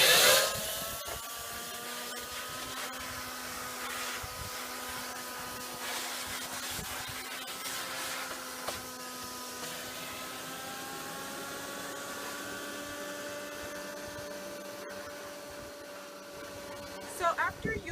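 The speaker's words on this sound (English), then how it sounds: "take a shop vac and just try to get out as much of the dirt as possible" Shop vac sucking dirt and soil out of a nursery container, a steady whining motor drone with rushing air and brief scraping bursts as the nozzle moves, running continuously and close up throughout.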